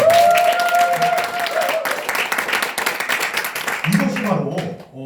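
An audience at a leadership lecture claps enthusiastically, a dense burst of many hands applauding with brief vocal cheers and tones mixed in, tapering off near the end.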